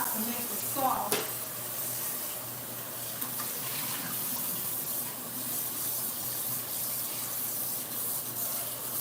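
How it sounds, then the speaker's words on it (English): Cooked noodles and water poured from a cooking pot into a bowl, a continuous watery rush and splash with a brief clank of the pot at the start, fairly close. "Now I'm going to pour the noodles into my bowl because I need this pot."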